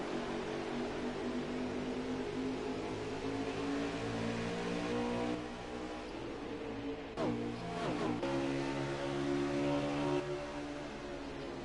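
Race cars at Gateway in a Bandits Series race, with a continuous droning engine roar whose layered tones rise and fall as the cars pass, steady and fairly loud throughout.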